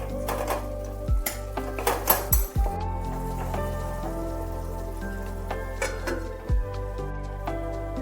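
A spoon stirs tomato curry in a pot on a gas stove, then a lid goes on, making a few sharp metallic clanks and scrapes between quieter stretches and a final clatter.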